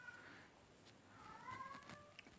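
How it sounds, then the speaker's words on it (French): A small pet cat meowing faintly in a quiet room, a couple of soft rising cries alone with no talk. "je sais pas si vous entendez mon petit chat"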